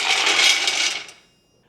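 Frozen cranberries, about seven cups, pour in a dense rattling rush of hard little berries into a pot for spiced juice, steady and close for about a second before tapering off into quiet.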